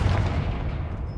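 A Confringo fire spell blast in Hogwarts Legacy lands as a loud, dense boom with a heavy low rumble that fades slightly over a second.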